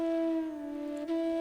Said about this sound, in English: the howls of fierce wild animals in the deep forest